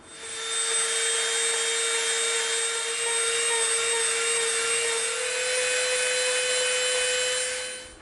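A rotary tool spins a shaped bit against an EVA foam seam, giving a steady, loud, high whine that holds for several seconds before trailing off.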